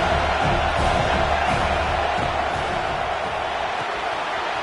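A home crowd roars at a college football game, Oregon against Utah, as a steady, loud wash of cheering and shouting fills the stadium without a break.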